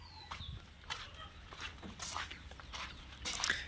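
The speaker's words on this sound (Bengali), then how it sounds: "এই মুরগির বাচ্চাগুলি লেগ হর্নের এক প্রজাতি কর্ক।" Young Leghorn-type chicks at a hatchery farm cheep in scattered, faint peeps with occasional soft clucks and shuffling, some calls a bit closer and louder near the end.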